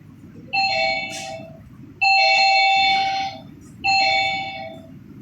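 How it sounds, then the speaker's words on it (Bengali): A doorbell chimes three times in sustained electronic tones, each ring lasting about a second with short pauses between, over a low background hum. "কলিং বেলটা বাজছে।"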